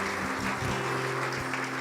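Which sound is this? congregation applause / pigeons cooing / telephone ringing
congregation applause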